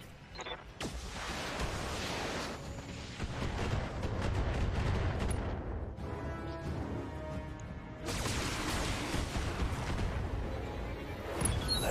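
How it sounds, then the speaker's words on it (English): Ammo explosion in the BattleTech video game: a sustained roar of dense blasts and crashing debris filling the whole stretch, with a brief lull before a second loud burst, no talk. "another ammo explosion!"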